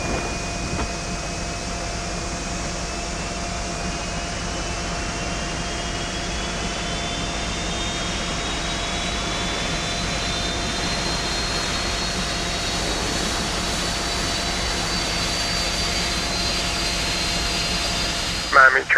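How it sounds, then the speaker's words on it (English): Airliner jet engines spinning up in a flight simulator game, a steady loud whine rising slowly in pitch over a constant roar, continuous throughout with a faint click near the end. "let's get these engines fired up"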